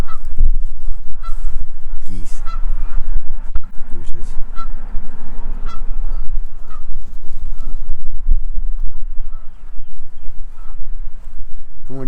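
Loose geese honking near a riverside campsite on the Susquehanna, repeated loud honks and calls close by over continuous outdoor noise, with people talking.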